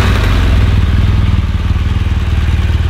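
A BMW R1200 motorcycle engine runs close by, a loud, deep, rhythmic idle with steady low pulsing and a slight rise in tempo early on, with no talk over it.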